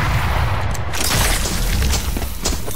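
A grenade explodes in the tactical shooter Valorant, a loud broad boom with a rumbling tail that fills the whole moment, with no speech over it.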